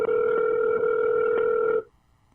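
A telephone call tone plays as a loud, steady two-note hum for under two seconds, then stops abruptly and leaves only faint background hiss.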